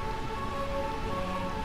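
Steady, even rainfall in Burmecia, the rain-soaked kingdom of the video game Final Fantasy IX, pours without a break under a faint sustained tone, with no voices.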